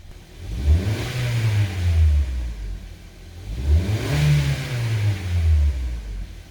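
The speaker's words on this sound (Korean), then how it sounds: "이 상태에서 가속을 해 볼게요." A car with a fault that keeps the check-engine light on is revved twice while stationary at a repair shop. Each rev rises in pitch, holds, then falls back, loud and close, with no talk.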